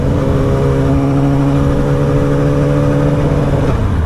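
600cc Yamaha motorcycle engine while riding, a loud steady mid-pitched drone with a constant hum throughout and no talk.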